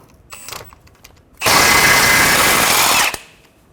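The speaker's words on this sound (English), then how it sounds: "A 17mm socket, remove the nut on the end of the ball joint." A power tool fitted with a 17mm socket spins the nut off a ball joint on a 2014-2019 Toyota Highlander. The whine starts abruptly and runs loud and steady for about a second and a half, then cuts off.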